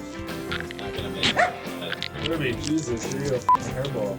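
Kirby the dog lets out short yips and barks between stretches of speech, with a couple of sharp bright squeaky notes standing out near the middle and toward the end.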